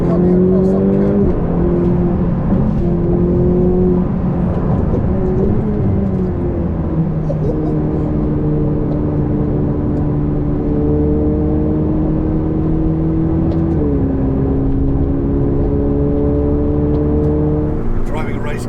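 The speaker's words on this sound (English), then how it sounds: "Driving a race car is not like driving a road car." Ferrari 488 Pista Piloti race car engine while driving: a loud, continuous engine drone whose pitch climbs steadily and drops sharply at several gear changes across the whole stretch.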